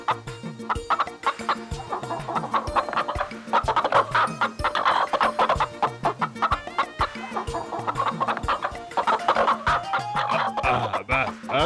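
Cartoon roosters and hens cluck and squawk in a busy, continuous flurry of bird calls set against a dense musical backing. The sound comes through loud and close.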